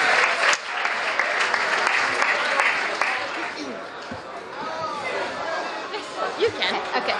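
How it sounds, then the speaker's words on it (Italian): An audience applauds a guest speaker at an Erasmus Days school event, with a burst of clapping that thins into scattered claps while chatter and murmuring voices carry on throughout. "Quindi qui abbiamo Amina, she's from London, so please an applause for her."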